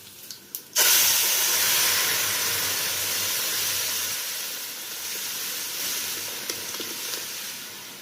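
Garlic, mustard seeds, cumin, dried red chillies and curry leaves hit hot oil as a tempering for moong dal rasam, sizzling loudly after a sudden start, a steady crackling hiss that slowly eases, with faint pops now and then.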